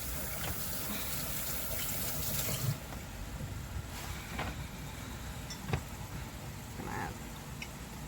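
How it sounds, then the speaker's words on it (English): Hands are washed under a running kitchen tap, making a faint, steady gush of water with a few small splashes and clunks. "Wash my hands."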